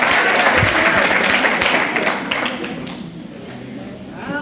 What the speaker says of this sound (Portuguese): Pode aplaudir com força aí, já que é para aplaudir, aplaude com força